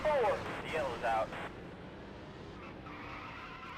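A race car spins and skids in a Dirt to Daytona career-mode racing game, with sharp tire squeals in two bursts followed by a steady engine drone; someone talks over the opening.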